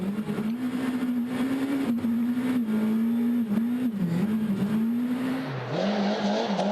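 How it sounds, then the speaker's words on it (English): A Mitsubishi Lancer rally car's engine strains at a European Rally Championship stage in Austria, a loud sustained engine drone held at high revs with small wavering pitch dips, a brief drop near the end, then climbing again, with no talk. "Car wailing in submission, as you can hear."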